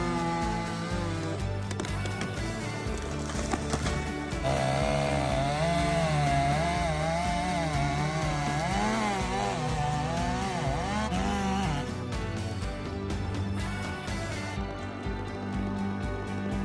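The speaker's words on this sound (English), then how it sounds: "The chainsaws roared as they cut through the wood" Large forestry chainsaws cutting through tree branches, a loud continuous engine roar with rising and falling pitch as the chain bites into wood, steady throughout with no speech.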